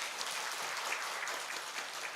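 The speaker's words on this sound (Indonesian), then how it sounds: "Tepuk tangan dulu Al-Yasmin" Faint, steady applause from the audience at an evening Islamic study gathering at Al-Yasmin. It is an even wash of distant clapping with no voices standing out.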